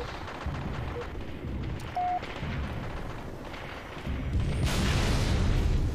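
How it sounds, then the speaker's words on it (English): A grenade explosion in a video game rises as a loud, broad rumbling blast over a constant backdrop of battle noise. "Who threw that bloody grenade?"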